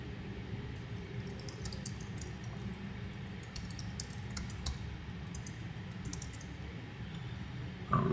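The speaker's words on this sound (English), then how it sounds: "I'm typing this." Soft, steady typing on a computer keyboard continues throughout as a quiet, rapid patter of key clicks, with no talk.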